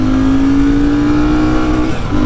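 A Royal Enfield motorcycle, Shotgun 650 or Hunter 350, holds a steady high engine drone against the rev limiter during a 0-60 run into the wind, loud and close with a slight dip near the end.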